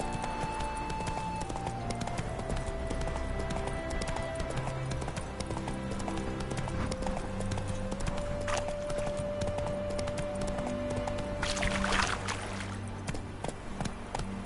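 Roach the horse trots in The Witcher 3, hooves clip-clopping in a steady even rhythm throughout, close and moderately loud under a sung melody and faint music.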